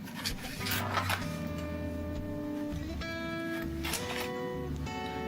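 A sewing machine bastes around the edge of fabric for a badge cover, with rapid mechanical stitching, a steady whirring motor and short pitched motor tones that stop and restart across the run.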